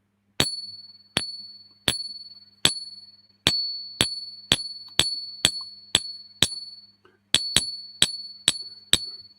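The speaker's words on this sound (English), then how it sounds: "You're going to hear some silver ringing here." Bright metallic dings from struck silver ring out about fourteen times in a steady rhythm, each strike sustaining a clear high tone that fades before the next, with no talking.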